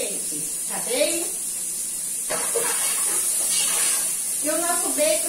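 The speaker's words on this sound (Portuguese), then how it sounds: "E o nosso bacon segue aqui refogando." Bacon sautéing in a pan, a steady bright sizzling hiss that runs throughout beneath intermittent speech from a nearby voice.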